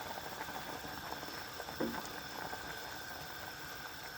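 Water for pork sinigang bubbles at a rolling boil in a pot, a faint, steady hiss and gurgle with one slightly louder burst partway through.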